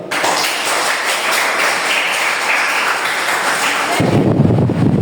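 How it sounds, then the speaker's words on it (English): A classroom bursts into steady applause, many hands clapping together in a continuous, fairly loud patter that swells near the end. "A round of applause for everyone and good job."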